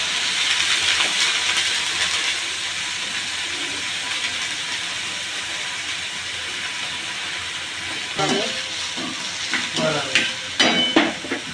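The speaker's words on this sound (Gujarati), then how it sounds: "હવે એનો વઘાર કરીએ આપણે." Steady, loud sizzling of spices tempering in two spoons of hot oil for a Kathiyawadi brinjal curry fills the clip, with a few clinks and stirring sounds near the end.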